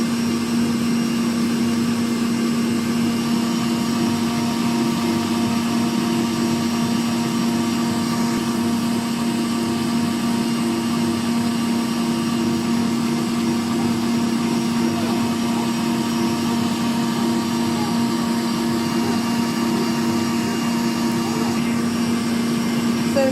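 Electric mixer whirring steadily on a fast speed through brownie cheesecake batter, a continuous loud motor drone with a strong steady hum, unbroken and without talk for over twenty seconds.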